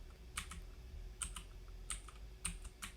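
Soft keystrokes on a computer keyboard tapped in short uneven bursts, quiet and close, with no talking.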